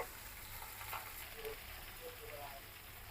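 Bottle gourd (lau) fries in a pan with a faint, steady sizzle and occasional soft scraping and clinks, low and quiet throughout.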